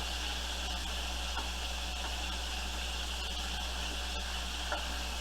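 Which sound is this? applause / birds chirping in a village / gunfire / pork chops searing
pork chops searing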